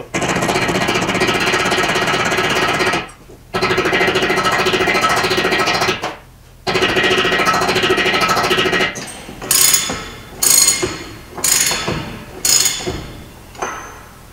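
A plastic hammer drives a block onto a wheel bearing to seat it in a car wheel hub. Loud sustained rapid tapping runs in long bursts separated by pauses, then gives way to several separate, spaced strikes.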